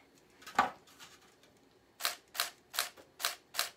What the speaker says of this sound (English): If you hear a little clicking sound, that's Shan with her camera.